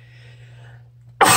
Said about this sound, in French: J'ai éternué à mes souhaits